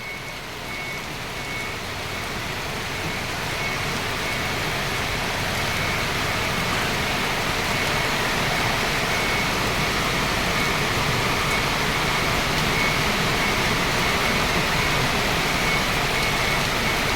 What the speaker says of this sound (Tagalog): Ayan ang ulan. Malakas.